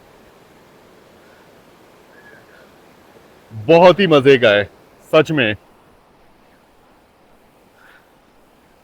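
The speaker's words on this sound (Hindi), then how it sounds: "यहाँ पर जो पानी का शोर है" Steady rushing water of a mountain river fills the background along a valley route toward the China border, with a short burst of talk partway through.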